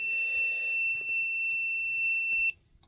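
A multimeter on continuity gives a steady electronic beep while probing the door latch motor of a 2003 Honda Odyssey; the single sustained tone holds for about two and a half seconds and then cuts off abruptly.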